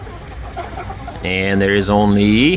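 A rooster in a chicken coop crows loudly and close, and soft clucking can be heard earlier. A person talks quietly underneath.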